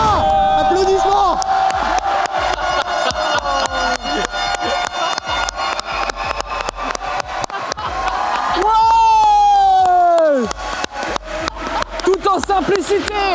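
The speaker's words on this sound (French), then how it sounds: "Applaudissements." A crowd roars and cheers as a French player arrives for a one-on-one match, loud whoops and shouts over rapid clapping, with a long sustained yell swelling midway before the cheering carries on.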